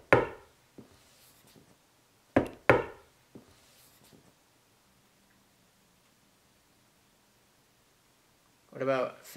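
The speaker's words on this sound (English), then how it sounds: "Can you knock for us? Just like this." Knocks on wood come in two quick clusters, sharp and close, followed by long near-silence with faint room tone; a voice speaks briefly at the end.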